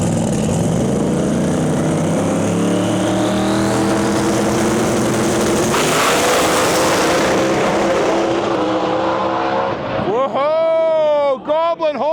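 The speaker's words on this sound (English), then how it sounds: "We built this car ourselves out of a shop out of Newberg, Oregon, called RPM Roll Bar, and we work with Carl" Pro mod drag racing car, home-built in Newberg, Oregon, at the Rocky Mountain Nationals: a loud, sustained engine roar that climbs and fades down the track, then a crowd and announcer's voice take over near the end.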